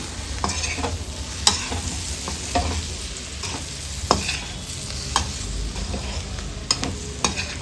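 Pork chilli with coriander leaves being stirred in a sizzling pan, Coorg style: continuous frying hiss with repeated scraping stir strokes and light utensil taps, close and fairly loud, with no talking.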